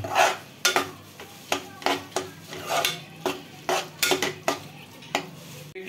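Ginger, garlic, onion and dried coconut sautéed in a pan for a mutton tripe masala, loud rhythmic metal-on-metal scrapes and clanks of a spatula every half second over a soft sizzle, no speech.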